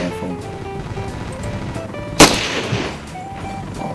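A single sharp gunshot rings out in the Ravenfield video game, hitting an ally, loud and close, then fading, over a background of game music and ambience.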